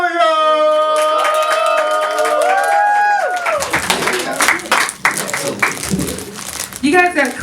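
A comedy show audience in a basement venue cheers for comedian Jessica Williams: shouting voices at first, then loud, dense clapping that carries on to the end.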